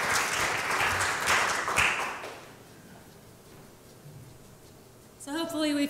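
Audience clapping at a music performance, loud and dense for about two seconds before fading into quiet, then a voice begins speaking near the end.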